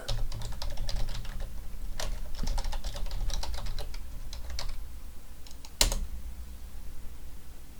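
Rapid clicks on a computer keyboard as a login is typed in, irregular bursts of close keystrokes with short pauses and a sharper clack near the end.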